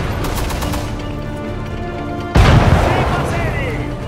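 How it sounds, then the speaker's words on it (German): Cannon and artillery fire in the World War II strategy game Sudden Strike 4, during the German Barbarossa campaign: a steady din of battle, then a sudden loud blast at about the midpoint followed by rumbling explosions, with game voices speaking. "Feuert aus allen Rohren!"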